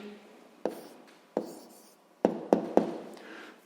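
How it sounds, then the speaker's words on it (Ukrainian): A pen or pencil writing down a math answer on paper, a few short separate scratchy strokes with pauses between them, close and fairly quiet in a calm room. "Ну що ж, записуємо відповідь."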